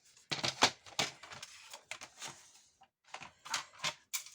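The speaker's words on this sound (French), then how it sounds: "Alors, on va couper à 16." Paper is cut to size for a handmade scrapbook mini photo album, giving close, dry, rapid snipping and rustling strokes in two bursts separated by a short pause.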